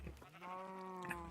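A cow in the Minecraft video game gives a single drawn-out, nasal lowing call that holds steady for about a second, close and clear with no talking.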